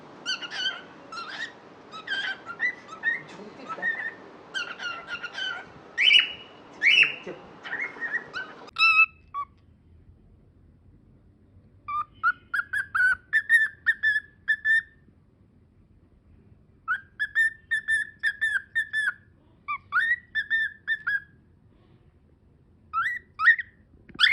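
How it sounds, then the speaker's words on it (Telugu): Two active pet birds sing close by in rapid bursts of bright, repeated chirps and whistled notes, dense and busy at first, then settling into shorter, spaced phrases, with no talking. "ట్వీటీ నాన్ స్టాప్ పాడుతూనే ఉంది ఇందాక రెండు వీడియోస్లో కూడా"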